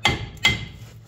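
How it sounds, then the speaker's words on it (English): Two sharp metallic taps from a small hammer knocking a bolted brake part loose during a master cylinder swap on a 1959 GMC pickup, evenly spaced, close and alone. "take your little hammer there and just kind of"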